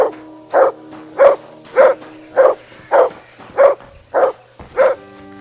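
Dog barking in the video game Kingdom Come Deliverance 2, nine evenly spaced barks close and loud over quiet background.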